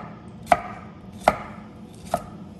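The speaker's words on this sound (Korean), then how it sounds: "편 썰고 잘게 썰어주시면 돼요" Vegetables chopped with a knife on a cutting board during tortilla preparation, three sharp, separate knife strikes spaced under a second apart against a quiet room background.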